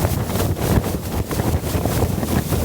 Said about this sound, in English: We're hitting critical winds now. This is the strongest it's been,